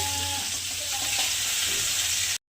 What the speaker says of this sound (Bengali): মাছগুলো হলুদ লবণ মাখিয়ে ভেজে নেব